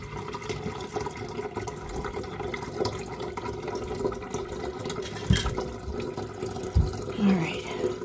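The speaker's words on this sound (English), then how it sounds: "we're going to put some water in here" Water runs steadily from a tap into a kettle being filled for tea, a continuous close rush with a couple of brief knocks.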